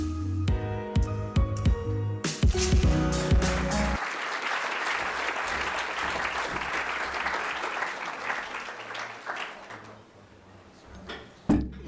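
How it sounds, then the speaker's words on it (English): Audience applause at the Effective Altruism Australia launch event, a sustained wash of clapping from a seated crowd that swells and holds for several seconds, then thins out toward the end. "you are very polite, by the way, to applaud for a woman who's not in the room"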